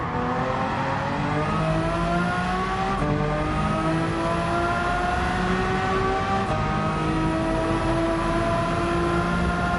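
A race car engine in Gran Turismo 7 revs steadily and accelerates down a straightaway, its pitch climbing through gears with two brief shift dips, loud and continuous with no voices.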